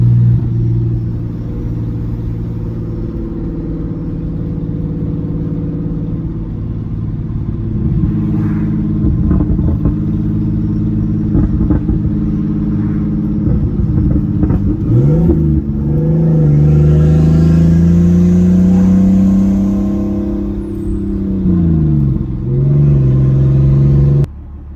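A turbocharged BMW E46 car engine on a night drive holds a loud, steady rumbling drone from inside the car, then climbs in pitch as it accelerates hard and eases off near the end. No talking.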